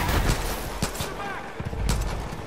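Gunfire in the video game Far Cry 5 from a higher-damage gun, several sharp shots cracking over a dense, busy game soundscape without clear speech.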